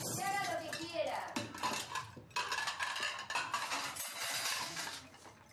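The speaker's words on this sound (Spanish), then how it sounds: "Vamos, sacando los platos." Plates and cutlery are set out for a family meal, with continuous clinking and clattering of dishes and silverware close by and some voices mixed in.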